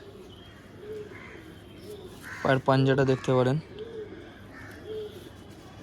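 Madras Malbai pigeons give soft, low repeated coos in the background, with a brief burst of someone talking in the middle.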